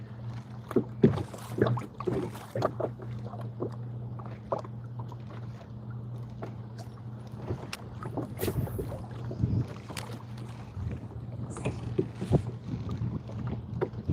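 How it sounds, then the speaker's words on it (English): Wind rushes over a lake around a kayak at Pymatuning Lake, Pennsylvania, with a constant low buffeting hum and repeated knocks and splashes from the boat and paddle, and no talking. "Oh man, this wind."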